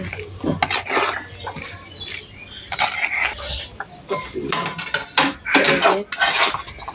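Spices being stirred into ghugni in a pan, a metal utensil clinking and scraping against cookware in intermittent clusters, fairly close, with faint kitchen background.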